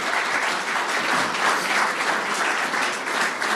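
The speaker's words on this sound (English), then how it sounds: "How about a big round of applause?" Lecture audience at a Civil War round table talk on Union bonds and financial agents, giving a sustained, dense round of applause that fills the room evenly from start to finish.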